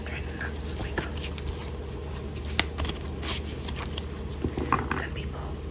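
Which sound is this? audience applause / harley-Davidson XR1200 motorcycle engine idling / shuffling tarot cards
shuffling tarot cards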